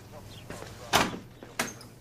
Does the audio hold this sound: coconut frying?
no